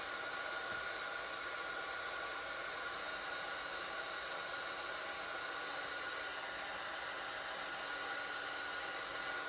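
A heat tool drying a freshly coloured background on white card, giving a steady, even blowing hiss like a hair dryer that runs unbroken throughout, moderately close and constant, with no speech.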